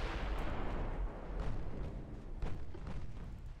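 Secondary guns fire from a warship in the naval video game Ultimate Admiral Dreadnoughts, a dense, rumbling barrage of overlapping booms and blasts that rolls on without pause.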